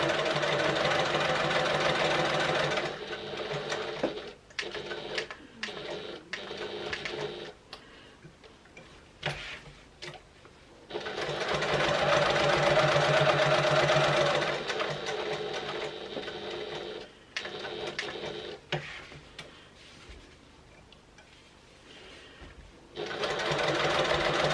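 A home sewing machine backstitches on a clutch wallet, running in close, rhythmic ticking bursts with several short stops and starts, the needle's mechanical tapping prominent between longer runs of stitching.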